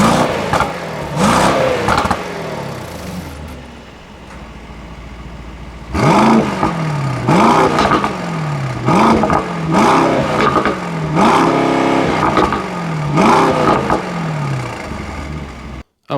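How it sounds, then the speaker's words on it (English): A 2024 Mercedes SL63 AMG with a 4-liter bi-turbo V8 revs repeatedly, loud close-up blips rising and falling in a series of sharp sweeps, settling briefly to idle between bursts, with no voices. "We can still get an SL63 with the 4-liter bi-turbo V8, and it sounds absolutely amazing."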